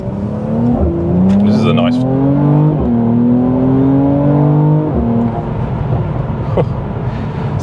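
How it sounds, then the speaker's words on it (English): A 400 hp Mercedes C43 AMG drives on a wet road. Its engine note climbs in pitch through several pulls, with brief breaks between gears, loud and close, and someone talks over it. "we really got a good test of the brakes there in the wet surface"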